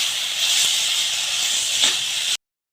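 Spice masala frying in hot oil for a cauliflower and potato dish, a steady, loud sizzling hiss held close, ending abruptly.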